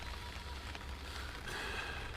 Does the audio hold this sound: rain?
yes